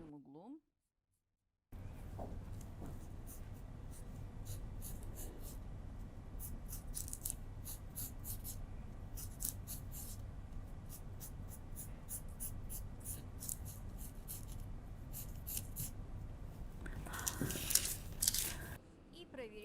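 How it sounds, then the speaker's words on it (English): A scoop neckline is drawn on a dress pattern with long steady scratching pen or pencil strokes on paper, close and continuous under a voice explaining, with a brief crinkle of paper near the end. "I want to draw a scoop neckline."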